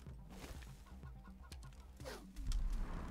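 A chicken clucking in the video game Wasteland 3, a quick series of short clucks over game background sound, with a louder low rumble near the end.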